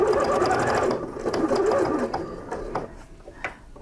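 A sewing machine runs close and loud, stitching false bias binding on a patchwork piece in a rapid steady whir that slows and stops partway, followed by a few light mechanical clicks.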